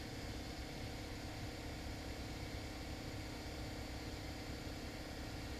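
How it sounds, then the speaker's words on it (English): An air compressor runs steadily at pressure in a workshop during a wood deck chair repair, giving a constant, even mechanical drone with no pauses. "So once the compressor's up to pressure here,"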